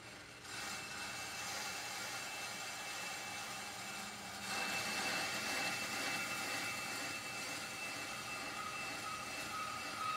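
A milling machine takes a very deep cut in metal, up to 20 thousandths of an inch, with the cutters left loose. It gives a steady, loud, broadband machining roar that grows slightly louder partway through and runs the whole time with no talking.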